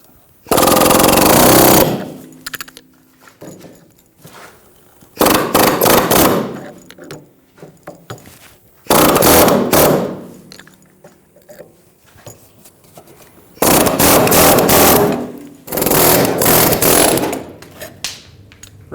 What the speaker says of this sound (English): Using an air hammer with a chisel bit, we're going to chisel up into the side of the bushing.